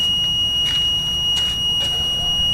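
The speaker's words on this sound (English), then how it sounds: "We got generator alarm." A propane-fuelled standby generator's alarm buzzer sounds as a steady, loud high-pitched electronic tone held throughout, over low engine-room rumble, with a few brief scraping noises breaking in.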